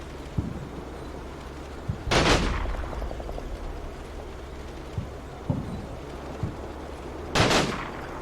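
Soldiers' gunfire in a World War II strategy video game battle, scattered distant pops and two louder sharp bursts of shots several seconds apart over a low ambient rumble.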